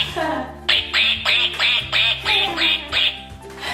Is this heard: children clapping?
no